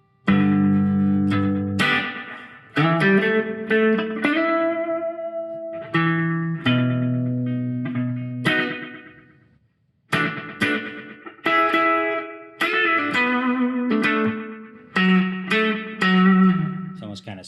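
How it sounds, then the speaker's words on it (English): Guitar played through a delay pedal set for a reverb-like echo, with plucked notes and chords ringing out, repeating and trailing off in a wash of effect, loud and continuous with brief gaps between phrases. "if you do want that kind of a reverb echo like that"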